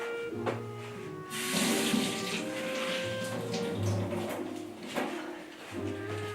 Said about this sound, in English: So I'm just going to wet my scrubby.